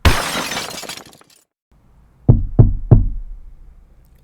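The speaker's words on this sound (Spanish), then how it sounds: "un jarrón cayera y chocara contra el suelo, rompiéndose en pedazos" A vase holding water, red roses and bluebonnets crashes to the floor, a loud burst of shattering that scatters and fades, followed after a pause by three firm knocks.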